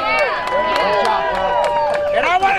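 A crowd at a car cruise memorial event whoops, cheers and claps loudly, with rising, wavering shouts overlapping in a lively burst.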